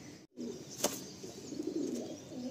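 A pigeon in a loft full of racing birds gives soft, low cooing that rises and falls over about two seconds, with a sharp tap partway through.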